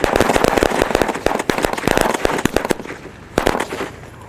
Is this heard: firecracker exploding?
yes